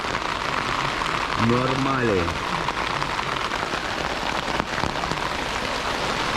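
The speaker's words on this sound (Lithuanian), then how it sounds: "Nes jopteli lietus" Steady rain patters on a surface during a storm at a tent campsite, a dense, continuous hiss, while a voice speaks briefly near the start.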